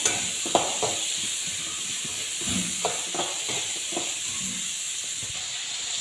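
Onions, green chilies and tomato sautéing in hot oil, a continuous close hiss with scattered light crackles and faint stirring scrapes, no voices.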